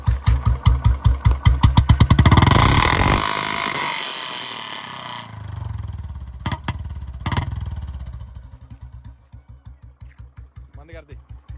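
A 2009 BS2 Royal Enfield Bullet Electra, close by: idling thumps climb into a loud, roaring rev that peaks and falls away, then the engine drops back to a steady idle thump, with voices speaking over it.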